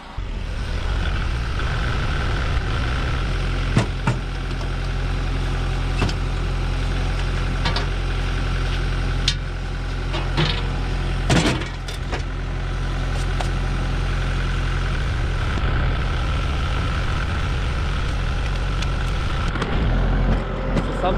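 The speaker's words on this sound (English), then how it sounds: "Now I'm gonna go grab the tractor and we will jump the batteries." A tractor engine idling in snow on a cold day, brought over to jump batteries. A loud, steady low rumble runs throughout, with scattered sharp clanks and knocks.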